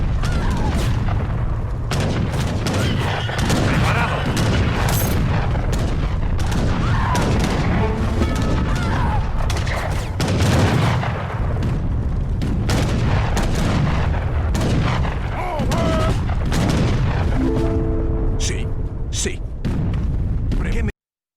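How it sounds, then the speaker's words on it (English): Gunfire cracks and deep cannon booms from the Age of Empires 3 strategy game, dense and continuous battle noise with repeated sharp shots and heavy blasts layered over a steady rumble. "The crack of gunfire and the roaring boom of cannon are perfect"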